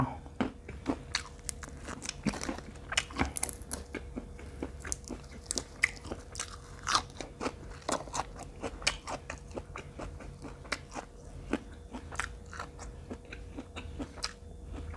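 Fried fermented pork sausage is bitten and chewed close up, with crisp crunching bites and steady wet chewing in an irregular rhythm, quiet and without talking.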